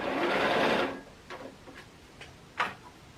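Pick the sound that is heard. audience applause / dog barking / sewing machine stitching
sewing machine stitching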